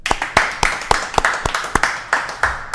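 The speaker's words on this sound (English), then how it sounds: "Can I have a round of applause for Mr." Sparse clapping greets a boxing commissioner as he is introduced, about a dozen sharp claps spaced at irregular intervals over nearly three seconds, fairly close and loud, from what sounds like just a few people.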